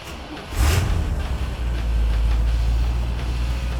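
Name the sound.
1969 Chevy Camaro SS 396 engine starting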